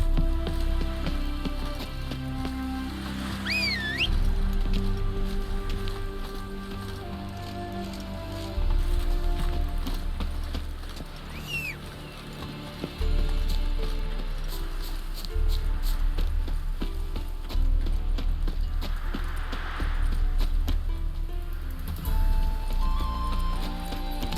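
Roach the horse gallops steadily through The Witcher 3, hooves clopping in a continuous rhythm under game music, with a brief whinny-like cry early on.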